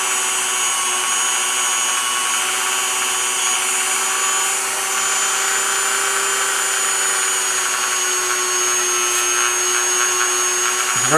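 A Dremel rotary tool whines steadily at high speed while polishing a Glock 20 SF magazine with Blue Magic polish. The sound is close and continuous, with a slight pitch drop near the end.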